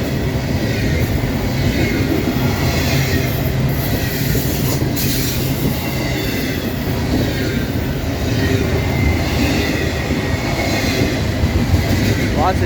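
A long freight train carrying JB Hunt domestic double-stack containers rolls past close by with a continuous loud rumble, rattling wagons and a few wheel squeals. A voice speaks faintly beneath the noise.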